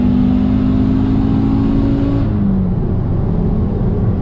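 Audi UrS6 C4 with an AAN five-cylinder big turbo upgrade accelerating hard in third gear, a loud, close, steady engine roar with a rising tone that cuts off abruptly as the throttle lifts midway.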